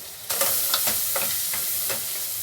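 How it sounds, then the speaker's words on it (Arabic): Onions sauté in a pot for kebab halla, a close, bright hiss of frying with several quick stirring scrapes in a steady rhythm, no talk. "واحنا بنشوح البصل كده"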